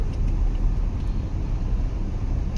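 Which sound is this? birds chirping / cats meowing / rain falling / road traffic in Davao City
road traffic in Davao City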